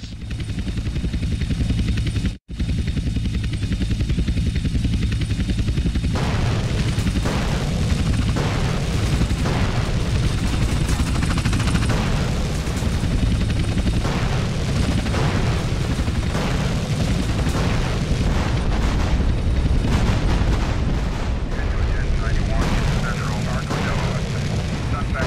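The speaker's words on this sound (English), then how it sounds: "Two agency choppers coming in on an intercept." Gunfire and explosions as two agency helicopters are shot down during a Grand Theft Auto: San Andreas mission protecting cargo, a dense, loud, continuous roar of rotors, blasts and shots with heavy low rumble throughout.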